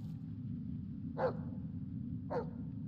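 A dog in the Blair Witch video game gives two short barks about a second apart over a steady low ambient rumble, with no other sounds.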